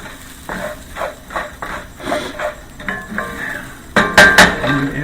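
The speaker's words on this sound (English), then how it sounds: "Just keep stirring it. Don't walk away. You can't walk away from rice because you will destroy it." A utensil stirs rice in a pan, clinking and scraping against the metal in a quick irregular rhythm, close and fairly loud, with brighter knocks toward the end and no talking.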